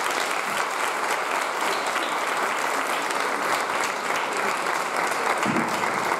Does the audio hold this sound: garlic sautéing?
no